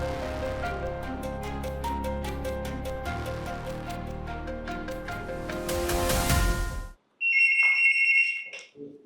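A telephone rings in a fire station control room, a rapid repeating electronic tone in quick pulses that stops briefly and then gives way to a sustained higher ringing.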